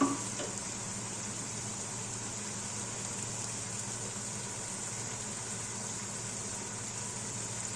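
Tomatoes softening in a pan for biryani give a steady, even sizzle with a faint hiss throughout, close and continuous, with no voices.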